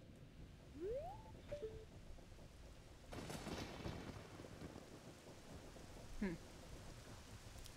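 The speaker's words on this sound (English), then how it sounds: "Oh no, a storm again!" A thunderstorm with rain in The Legend of Zelda: Ocarina of Time: steady rain hiss with a rolling thunder rumble partway through, and brief rising musical chimes over the top.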